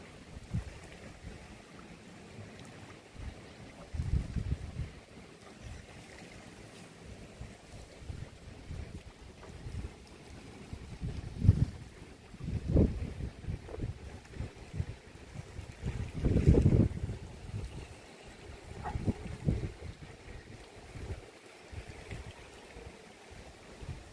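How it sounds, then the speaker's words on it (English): Wind gusting across a hotel balcony, a steady low rumble of buffeting against the microphone that swells into stronger gusts now and then, heard alone with no voices. "There's quite a nice wind here."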